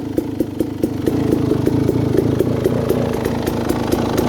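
A motorcycle engine with a Keihin PWK 36 carburetor idles close by at about 1700–1750 rpm with a steady, rapid pulsing putter, holding an even rhythm throughout.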